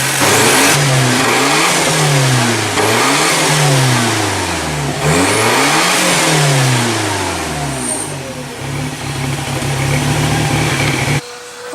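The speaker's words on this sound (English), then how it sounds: "it's nice to see Les get his car running" A 1973 Triumph TR6 engine runs close by and is revved repeatedly, its pitch rising and falling in several swells before easing back toward idle and cutting off abruptly at the end.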